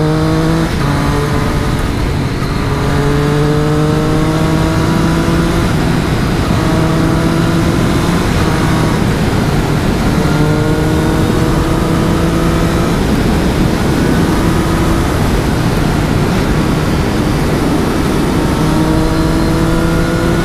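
A Triumph Trident 660 motorcycle engine runs loud and close while riding a mountain pass, revving up through the gears in repeated rising sweeps with brief dips at each shift, under heavy wind rush.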